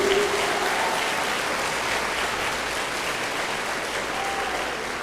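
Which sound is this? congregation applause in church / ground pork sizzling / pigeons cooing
congregation applause in church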